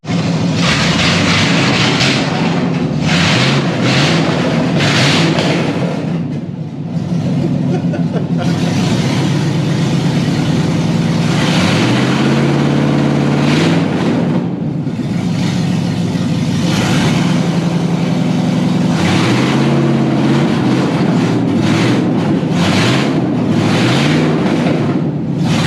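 Chevrolet K1500 pickup truck engine with a straight-piped exhaust, running loud and steady with a deep rumble and occasional fluctuations in pitch, near and continuous throughout.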